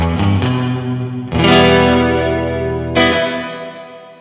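Electric guitar chords ring out through an Electro-Harmonix Cathedral reverb pedal, loud and sustained, with a second strum midway and a third near the end, each washing into a long shimmering tail.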